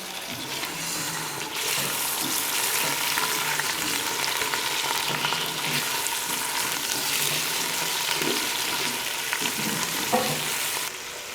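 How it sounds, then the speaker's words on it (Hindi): Chicken frying with browned onions in a pan for biryani, a continuous loud sizzle with occasional stirring scrapes and clinks, steady throughout with no talking. "प्याज हल्का ब्राउन होने पर अब इसमें चिकन शामिल करें और इसे 5 मिनट तक भूनें।"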